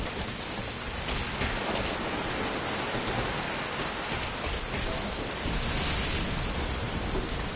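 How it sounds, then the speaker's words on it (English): Heavy, steady rain pouring down in the Metal Gear Solid Ground Zeroes game, a dense unbroken wash with distant rolls of thunder underneath, no voices. "That rain just won't let up."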